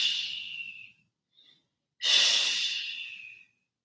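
Two long, deep breaths during a yoga twist, close and breathy, the first easing off and the second drawing in strongly after a brief pause, with no talking.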